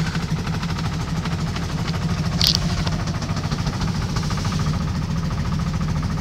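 A small engine with its choke set settles into a steady idle just after starting, a continuous low rumble with a rapid knocking pulse and a brief metallic tick midway, heard up close and alone.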